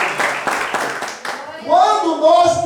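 A church congregation claps in a quick, even rhythm for about a second, then a voice rises over the fading noise.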